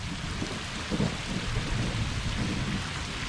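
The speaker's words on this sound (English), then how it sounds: "just lightning and pretty heavy rain now" Heavy rain pours steadily on a lake campsite during a thunderstorm, a dense hiss with low thunder rumbling underneath, fairly faint and with no talk.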